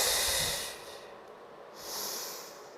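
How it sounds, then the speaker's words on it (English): Slow, deep breaths are drawn in and let out through the nose, close and soft, with an airy hiss on each inhale and exhale and no talking. "slow breaths."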